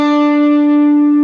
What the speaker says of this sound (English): If I don't do the vibrato, it sounds like this.